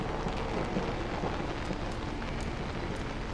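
Rain and thunder from the horror video game Outlast, a dense, steady hiss of rainfall with a low rumbling underneath, constant and fairly loud throughout, with no speech.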